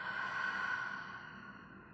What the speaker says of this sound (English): deep breath in, full breath out